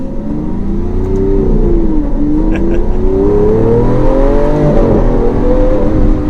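A Lamborghini Aventador LP700-4 Pirelli Edition accelerates on a test drive, its engine note climbing in rising sweeps with a brief dip from a gear change, loud and close throughout.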